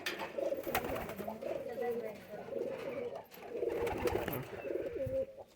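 Pigeons coo nearby in repeated soft, throaty rolling calls that overlap almost continuously, with faint voices in the background.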